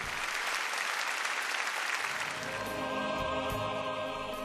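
An audience applauds after a dance performance featuring Cossack cavalry and Russian dances, a dense, steady wash of clapping that holds at even strength throughout.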